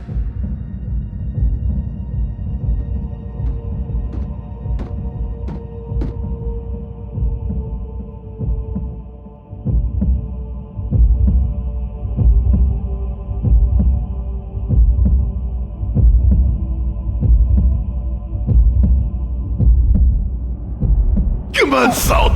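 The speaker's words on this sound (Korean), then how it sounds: "저건 분명 심장 소리?" A deep, steady heartbeat from the Transformers: Prime cartoon thumps rhythmically under a constant low hum, loud and close, with a sharp noise burst right at the end.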